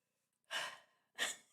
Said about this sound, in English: I'm starting off yawning